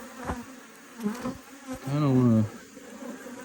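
Honey bees buzz during a hive inspection, a loud steady drone swelling near the middle, mixed with handling knocks and someone speaking briefly.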